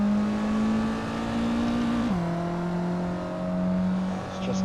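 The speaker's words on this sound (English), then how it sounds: "Let's try some drifting on this car." A racing game car drifts, its engine holding a steady droning pitch that drops sharply around the middle as revs fall, then settles and wavers, loud and close with no speech.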